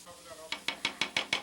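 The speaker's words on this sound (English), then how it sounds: "Now let me give this a little bit of a stir here" A utensil stirs sizzling food in a Turbo Cooker Plus pan with a run of evenly spaced scraping swishes over a soft background hiss.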